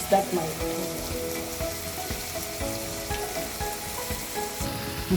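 Tomatoes fry in a pan for a beef stir fry, a steady close sizzle with crackling pops and occasional stirring scrapes, with no talking.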